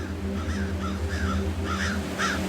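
A crow caws five or six times in a steady rhythm, clear and close above a low droning background, used as an audio drama sound effect.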